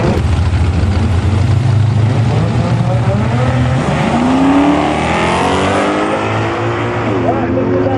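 A Ford Escort drag car thunders down the track at a drag raceway nationals meet, its loud engine roaring and revving through rising gear sweeps over about eight seconds, with a commentator talking over it throughout.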